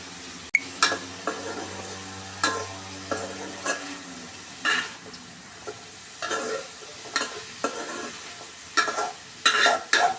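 Cut taro stolons fry in a pan and are stirred, with repeated scraping strokes and clinks at an irregular rhythm over a continuous sizzle, close and fairly loud.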